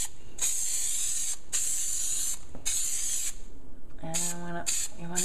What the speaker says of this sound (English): And then we're going to spray all of this in here.